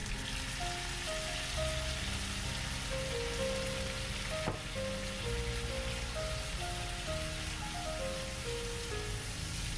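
Meat stir-fried in a wok just after aged vinegar goes in, for a wild dandelion dish; a steady, dense sizzle and crackle fills the whole stretch close up, with a faint tonal melody running along underneath.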